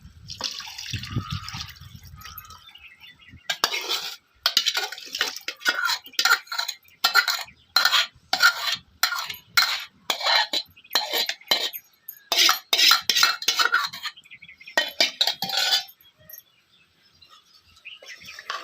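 Leftover mutton curry gets stirred into biryani in a cooking pot, making repeated close scraping and clinking bursts in an irregular rhythm, with a brief watery sound near the start.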